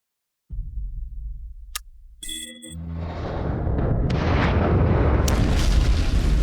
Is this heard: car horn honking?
no